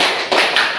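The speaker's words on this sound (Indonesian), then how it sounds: "Tiga kali tepuk lima." Quick sets of hand claps in a group classroom clapping routine, three dense bursts in under a second, close and loud with no talk.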